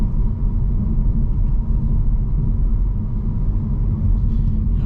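A 2023 Audi A4 45 Prestige rolls over road bumps, heard from inside as a steady low rumble of road and engine noise, with no rattles standing out and no talk.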